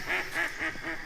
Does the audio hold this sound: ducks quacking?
yes